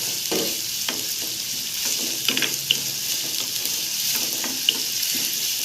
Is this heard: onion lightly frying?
yes